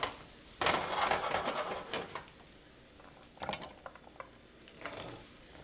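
Butternut squash pieces hit a hot pan and give a gentle, crackling sizzle, with bursts of stirring and scraping in between. The cooking is close and fairly quiet, and no voices are heard.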